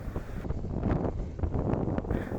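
Strong wind buffets the microphone on a moving motorbike along a road in rural Bangladesh, a close, rough rumble that gusts unevenly throughout.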